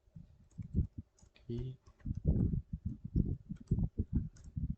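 Keys tapped on a computer keyboard while entering data into a program, light quick clicks scattered beneath someone speaking continuously close to the microphone.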